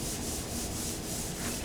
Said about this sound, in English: it looks like I'm sanding it, but I'm as much polishing it at this point as I am sanding it.